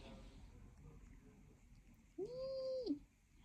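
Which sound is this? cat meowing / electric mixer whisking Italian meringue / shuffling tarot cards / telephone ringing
cat meowing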